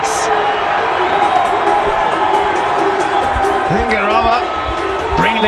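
Cricket crowd noise in a Pakistan versus Zambia match after a six, a loud, sustained roar of cheering and whistling with some brief voices cutting through near the end.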